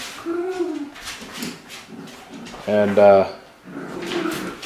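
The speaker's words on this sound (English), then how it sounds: "let me get these dogs out of here" Several dogs whimper and give short yelps indoors, mixed with talk, with a louder burst of barking around the three-second mark.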